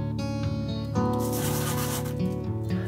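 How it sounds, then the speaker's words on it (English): Steady abrasive rubbing of 80 grit sandpaper on cocobolo wood, continuous and close, with a faint tonal hum underneath. "I moved on to sanding with 80 grit sandpaper to clean up the cut"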